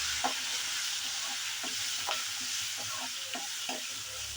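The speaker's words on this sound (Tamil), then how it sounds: "இது தலைமையிலே கொஞ்சம் கருவேப்பிலையை போட்டு நல்லா வதக்கி விடலாம்" Curry leaves sautéing in hot oil in a pan while cooking a seafood curry: a steady soft sizzle with repeated scraping spatula strokes in an irregular rhythm, close and fairly quiet.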